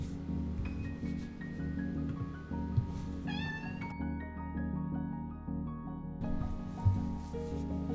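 A pet cat meows a few times indoors at home, short rising cries standing out over a steady low background hum.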